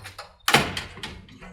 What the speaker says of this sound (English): And Scrooge closed the door.